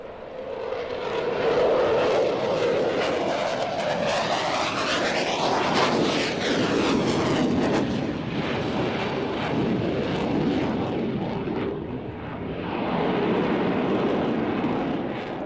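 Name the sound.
French Rafale jet flyby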